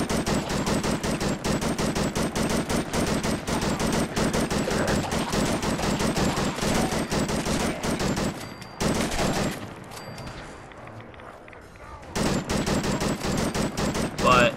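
Full-auto bursts from a modded gun in Fallout 4 rattle loud and continuous for most of the stretch, drop out briefly to a quieter lull, then resume at full intensity.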